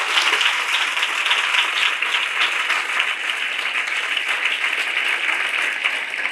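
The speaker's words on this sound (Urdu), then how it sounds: "زوردار تالیاں بجائیں اس کلام کے لیے." A church congregation clapping loudly during an Urdu/Hindi sermon, a dense, steady roar of hands that holds at full strength without pause.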